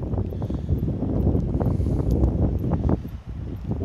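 Gusty wind blows outdoors beside the water near an aquatic reserve, buffeting the microphone in a loud, rough roar that eases briefly near the end.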